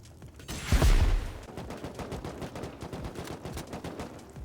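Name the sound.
gunfire and incendiary rockets in video game Rust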